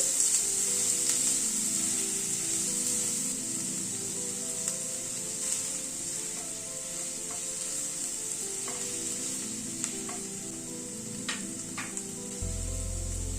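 Onion fries in a pan for a ridge gourd and poppy seed dish, a continuous even sizzle with occasional light clicks from stirring, no voices.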